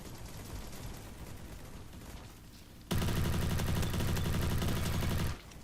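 Automatic gunfire in the Roblox shooter Bad Business, a dense rapid burst lasting a couple of seconds that rises sharply above quieter game ambience, then cuts off.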